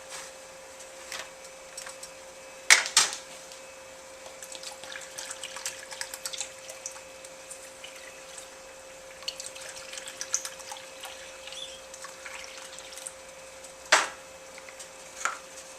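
Water pours into a double boiler while vanilla pudding is being made from dehydrated food-storage mix. A soft, steady liquid trickle runs throughout, with a couple of louder clunks and splashes.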